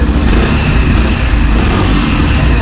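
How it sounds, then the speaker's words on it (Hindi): A 2021 BS6 Yamaha FZS Fi V3 motorcycle in matte black runs loud and close, with a dense, steady engine roar throughout. "तो बाइक का स्टार्ट करते हैं और साउंड में थोड़ा बहुत आप लोगों को पिछले से चेंज मिलेगा इसके साउंड में।"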